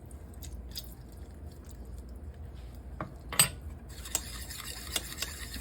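Salad ingredients with lime juice being stirred in a bowl, soft faint scraping and a few light clinks of a utensil against the dish, quiet and intermittent.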